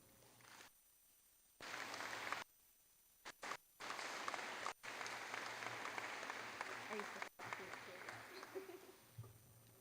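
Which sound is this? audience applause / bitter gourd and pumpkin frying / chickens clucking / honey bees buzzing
audience applause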